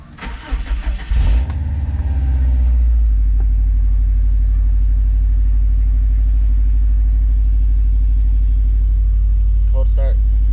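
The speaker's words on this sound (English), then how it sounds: "I'm gonna start the car now." A Subaru STI cranks with a few loud rapid turns, catches on a cold start, and settles into a steady, deep, rumbling idle that continues close and loud, with a brief clink near the end.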